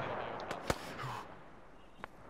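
Incoming gunfire in Arma 3, a few sharp, distant cracks and pops spaced irregularly over a faint, steady background hiss.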